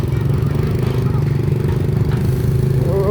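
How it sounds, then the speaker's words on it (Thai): An excavator strips topsoil and loads it into a dump truck at a drainage canal construction site in Laos; a steady, loud diesel engine drone runs throughout, with faint clatter and scraping. "รถแมคโครเพิ่นกำลังลอกหน้าดินออกยกใส่รถดำเพื่อเอาออกไปเตรียมลอกหน้าดินนั่นเองเนาะ"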